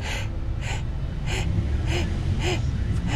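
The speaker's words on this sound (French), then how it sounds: "Vous pouvez sentir à l'oreille à quel point cette respiration elle est superficielle et elle est même un petit peu aiguë au son" Shallow chest breathing, rapid and slightly high-pitched, with about six quick, rhythmic breaths in a row, close to the ear, with no speech.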